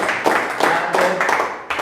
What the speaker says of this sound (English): give him a round of applause for coming first